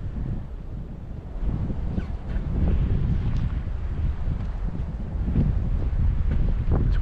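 Wind buffets the microphone at a spillway near Corpus Christi, Texas, on a winter fishing outing, a steady low rumble that strengthens after the first couple of seconds with no voices over it.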